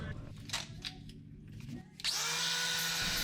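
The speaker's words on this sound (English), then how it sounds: "he's just grinding down some of the weld so that the tip will actually slide over it" A power grinder on a 2009 Acura TL exhaust spools up partway through and grinds down a weld on the tip, a steady high whine. Quieter shop noise and faint taps come before it starts.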